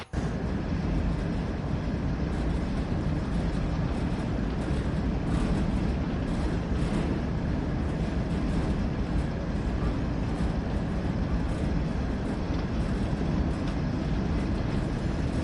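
Union Pacific freight train running in Train Sim World 3, a steady loud rumble of engine and rolling wheels that holds unchanged throughout, with no other sounds.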